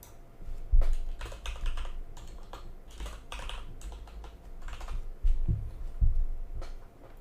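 Code is typed on a computer keyboard in quick, irregular bursts of close clicking keystrokes, with a few heavier thumps and brief pauses, and no voices.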